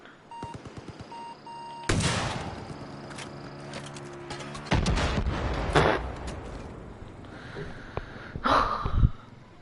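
Video game gunfire: scattered shots and impacts come in bursts of varied loudness, with broadband bangs near 2, 5 and 6 seconds and a few later hits over game effects.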